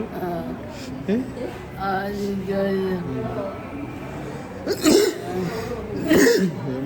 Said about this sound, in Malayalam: ചിരിക്കുമ്പോ ഒരു ചുമ